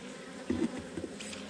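Honeybees in an open hive with ten frames of comb produce a close, steady, droning buzz with small swells, and no one speaks.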